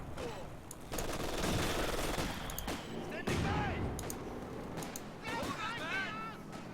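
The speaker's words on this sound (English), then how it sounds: "You notice that the pack gun, or 6-pounder, is firing." Anti-tank gun fire in Company of Heroes 2, a 6-pounder pack gun in a British-versus-Ostheer battle, comes through as sharp reports and crackling gunfire amid dense battle noise, with voices talking over it.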